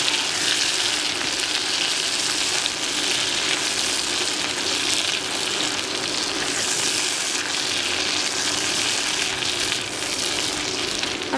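Potatoes for aloo do pyaza fry under a lid in a pan, a loud, steady oil sizzle that holds evenly throughout with no voices.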